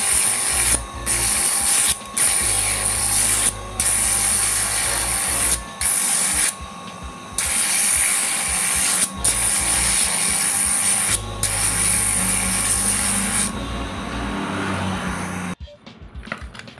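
Sandpaper rubbing the outer surface of a used coconut shell being made into a ring, heard up close as steady scratchy strokes broken by short regular pauses, with no talking.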